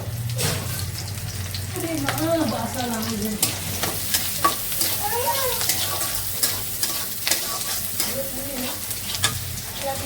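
Vegetables cooking with ginger-garlic paste in a home pan, a steady sizzle with occasional stirring scrapes, while background voices and household noise carry on over the frying.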